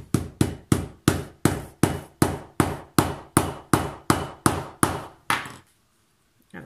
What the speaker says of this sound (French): Et on va donner un petit coup de marteau.